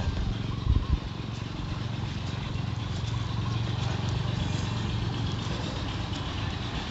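An engine-driven water pump running in a farm field, a steady close droning engine rumble throughout.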